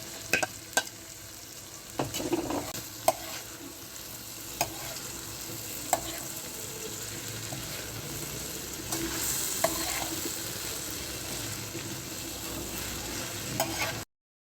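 A pan of mutton curry with fried okra being stirred, giving a steady low sizzle with scattered scraping clicks of the spoon against the metal, no voices.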